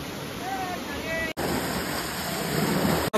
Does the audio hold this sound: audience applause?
no